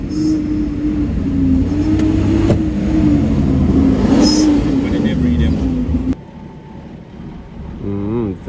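Truck engine revving at a flat bridge reopened to the public after Hurricane Melissa, a steady loud mid-pitched drone that holds for about six seconds, then drops away to quieter rumble with a brief rising whine near the end.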